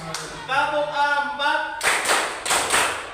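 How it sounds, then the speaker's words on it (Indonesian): Students in a classroom clap together in a counting clap game, sharp bursts of group clapping following a teacher's spoken count, loud and close. "Tepuk 1, tepuk 2, tepuk 3, tepuk 4"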